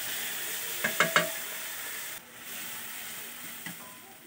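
Spices fry in hot oil with bay leaf and onion for rohu fish kalia, giving a soft continuous sizzle, punctuated by a few sharp clinks of a spoon against the pan early on and one later.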